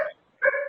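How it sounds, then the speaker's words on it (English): A dog barks twice in another room of a home during a village board meeting, two short, sharp yips a split second apart, heard alone and clear against the quiet. "Please excuse my dog in the background."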